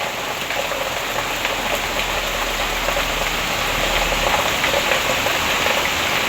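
Heavy rain pours down outside a shop, making a dense, constant hiss of drops drumming on surfaces, steady and fairly loud throughout with no voices.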